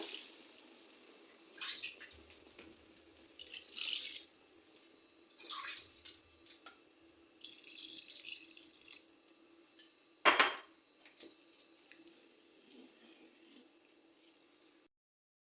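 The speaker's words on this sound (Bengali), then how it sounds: "পরিমাণ মতো জল দিয়ে দিব" Water poured into a pan for a Bengali tengra fish curry, a soft splashing stream in several short bursts with one sharper splash near the end, fairly quiet throughout.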